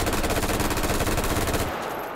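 Simulated M16 rifle in the VR shooter H3VR emptying a 30-round magazine of 5.56x45 NATO on full automatic: a loud, rapid, unbroken burst of shots that cuts off abruptly near the end, leaving a short tail of room echo.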